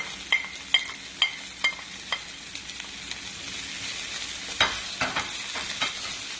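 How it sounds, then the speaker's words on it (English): Scallion whites fry in oil with shrimp for a Vietnamese shrimp and meatball udon soup, a soft steady sizzle broken by several sharp utensil scrapes and taps as the pan is stirred. "Now we're going to add in the white part of the scallion."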